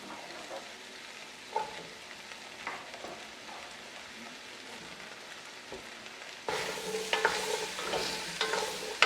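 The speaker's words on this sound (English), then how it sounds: "Give that a stir just to coat it with all that niceness on the bottom of the pan there." Pumpkin, okra and diced celery get stirred in a hot pan, first with soft scrapes over a quiet sizzle, then a louder, busier frying hiss with clattering stirs toward the end.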